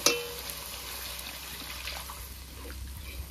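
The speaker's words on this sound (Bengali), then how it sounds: "মশলাটা ভালো করে কষিয়ে নিয়েছি, এখন জল দিয়ে দেবো।" Water is poured into a pan of frying spice masala, giving a low, steady splash and gurgle with faint sizzling underneath, close and quiet, opening with a brief sharp burst.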